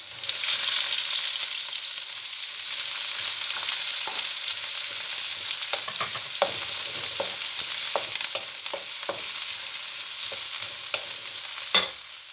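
Onion frying in a pan for buko pancit, a steady close sizzle filling the whole stretch, with stirring scrapes and clicks breaking through in the second half and one sharp clatter near the end.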